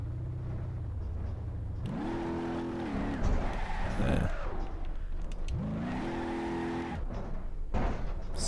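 In the BeamNG Drive game, the Notajeep's engine revs hard in repeated rising surges, with tires squealing between the climbs, loud and close throughout.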